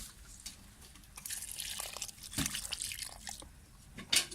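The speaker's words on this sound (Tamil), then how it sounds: "புண்ணாக்கு கலந்து வச்சுருக்க தண்ணியை நம்ம இதோட ஊற்றிடலாம்" A liquid mix of soaked peanut cake and rice water is poured onto a potted lemon plant on a rooftop garden, giving faint, uneven splashes and drips that swell and fade over a few seconds.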